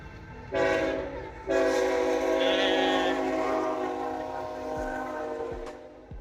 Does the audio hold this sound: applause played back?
no